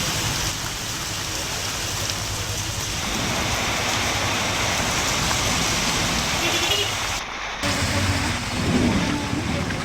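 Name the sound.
rain falling in Bellampalli town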